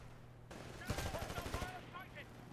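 Rapid automatic gunfire in Titanfall, a quick string of sharp shots in one burst, moderately loud against a quiet game backdrop, followed by fainter game sounds.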